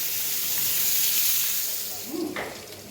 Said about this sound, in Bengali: দিলাম রসুন রসুন একটু বাজা বাজা হোক